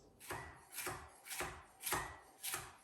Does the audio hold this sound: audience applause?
no